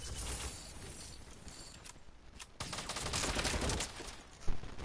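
Rapid gunfire crackles through a shooter video game in dense, overlapping bursts, a steady barrage that swells louder in the second half with a sharp peak near the end, and no voices.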